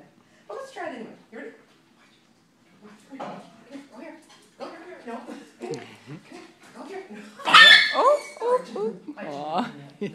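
A dog yips, whimpers and gives short excited barks close by, mixed in with a person talking to it in a home setting.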